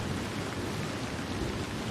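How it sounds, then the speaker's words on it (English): Steady heavy rain with the low rumble of thunder during a storm. The downpour is dense and constant, and it plays alone without any voices. "They huddled into the small space, waiting for the rain to stop."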